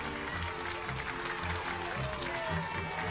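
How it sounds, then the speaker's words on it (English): Children clapping and cheering together, a steady patter of applause and excited voices that carries on throughout. "The children clapped and cheered."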